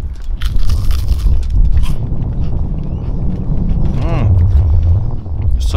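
Crunchy fish batter cooked in lard at a traditional fish and chip shop, heard as close crunching bites with some chewing, under a voice and low background noise.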